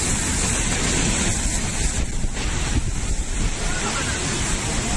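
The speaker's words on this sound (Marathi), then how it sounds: "भगदाड पडल्यामुळे हा मोठ्या प्रमाणात पाण्याचा प्रवाह त्या ठिकाणी पाहायला मिळतोय" Water gushes through a breach in the Nira canal near Baramati during heavy rain, a loud continuous roar mixed with wind buffeting the microphone and a brief dip in the middle.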